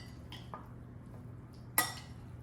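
A spoon mixes chopped cilantro into vegan rice bowl ingredients, giving a few soft scrapes and one sharper clink against the bowl amid near silence.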